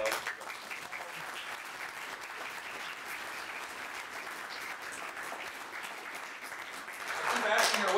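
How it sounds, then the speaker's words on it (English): An audience at a university forest industry lecture applauds steadily and evenly, a moderately faint, sustained wash of many clapping hands that swells louder toward the end. "So I think a round of applause."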